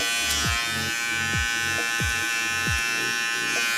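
Close, continuous buzz of an electric hair trimmer during a taper haircut, with a rhythmic pulsing as the blade passes through hair roughly twice a second.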